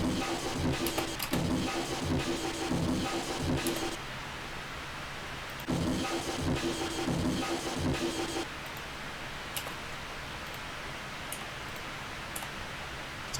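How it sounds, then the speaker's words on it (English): A chopped drum break layer run through heavy distortion in Reaper loops as tech step production, harsh and dense, with bursts of crunchy hits that cut out briefly and then restart before settling into a thinner noisy tail. "Let's turn up the distortion a bit more."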